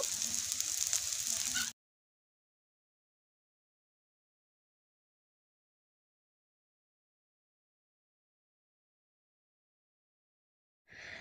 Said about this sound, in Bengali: এভাবে করে সবগুলো পাকোড়া বা বড়া আমি ভেজে নেব